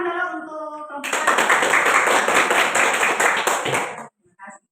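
An audience bursts into dense, sustained clapping for the women in a classroom group presentation, loud and continuous for about three seconds before stopping abruptly, with someone speaking just before it.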